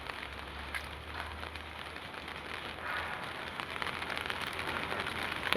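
Steady rain pattering on a surface, a continuous broadband hiss with scattered drop impacts, fairly close and unbroken throughout.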